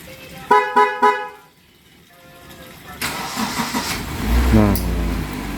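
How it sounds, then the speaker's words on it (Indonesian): A Honda Mobilio fitted with an aftermarket remote start gives a few short tonal chirps, then its engine cranks, catches and settles into a steady idle nearby. "Bisa menghidupkan mobil dari jarak jauh."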